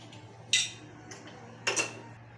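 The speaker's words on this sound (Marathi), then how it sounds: "चुरून घेऊया एकदम खुस खुसखुशीत झाली आहे आवाज येते बघा" Crispy sev made from gram flour is crushed by hand in a large plate, giving two short crunchy crackles over a low steady hum.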